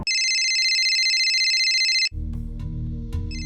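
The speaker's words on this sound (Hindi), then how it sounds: "सेक्टर 31 की एक कोठी में फोन की घंटी बजी।" A shrill electronic telephone ring trills continuously for about two seconds, then cuts off into a low rumbling background with a brief return of the tone.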